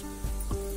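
Cumin seeds dropped into hot oil that already holds mustard seeds in a kadhai while cooking a wild monsoon vegetable, giving a steady sizzling hiss with two brief crackling bursts, close and fairly loud.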